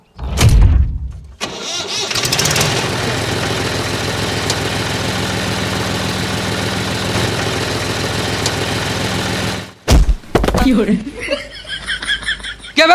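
A tractor engine turns over and settles into a loud, steady running drone for several seconds, then cuts off abruptly, followed by brief scuffling noise and voices.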